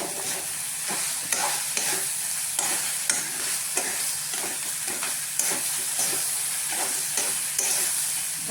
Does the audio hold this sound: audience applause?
no